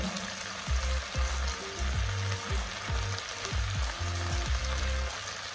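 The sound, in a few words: stirring chili powder, garam masala and coriander powder in pan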